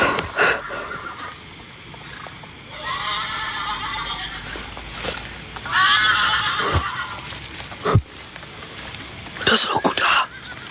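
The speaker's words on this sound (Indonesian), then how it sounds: "Ada suara kuda" A horse whinnies loudly twice in a drawn-out, wavering call during a night outing at a sacred bamboo grove, with faint hoof clops, rustling and murmured voices around it.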